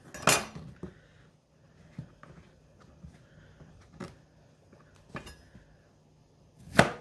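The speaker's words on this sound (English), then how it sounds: "So with my zucchini today, just going to cut it in fourths." A knife chops a zucchini into fourths on a cutting board, giving a handful of sharp, separate thunks spaced a second or so apart, close and fairly quiet, with faint clatter between the cuts.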